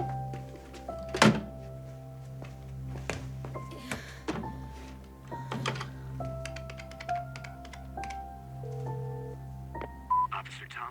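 Telephone keypad tones beep in short bursts among clicks and thunks as a number is dialed, before a voicemail greeting plays, in a Romanian-dubbed animated cartoon; voices speak over parts of it.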